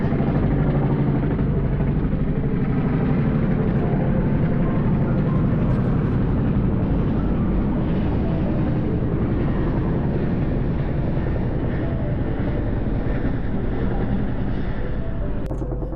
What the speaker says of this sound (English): Dude, a helicopter.